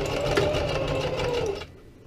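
A sewing machine runs fast, stitching two zigzag rows back and forth on elastic with a close, steady whirring rattle for about a second and a half before stopping abruptly.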